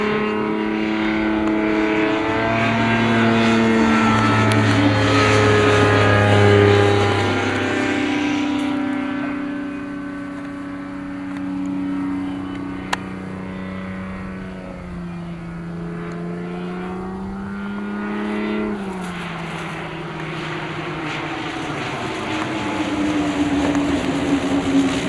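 Kitfox light airplane fitted with skis, its piston engine droning with a steady harmonic hum that rises and shifts in pitch as power changes, loud at first then settling lower, with no talk.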